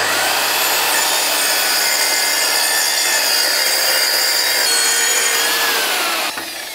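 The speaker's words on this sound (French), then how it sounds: "Utilise pour cela une scie plongeante." A plunge saw cutting dry screed board, a loud continuous close-up whine and rasp of the blade through the panel that holds steady before tapering off at the end.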